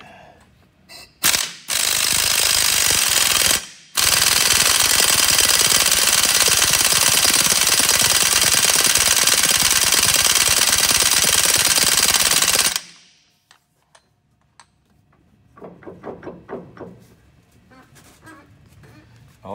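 A loud pneumatic hammer rattles continuously for several seconds during a power divider input seal replacement, pauses briefly, then runs long before stopping, followed by quieter tool clatter.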